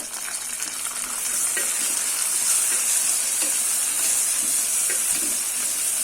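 Onion, green chilies and mint sauté in a pan for home-style tomato rice, giving a continuous close sizzle and hiss that swells slightly after the first second and stays steady.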